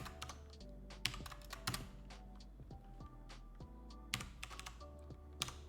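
Close, crisp clicks from a mechanical keyboard come in uneven bursts of typing over quiet lo-fi music in the background.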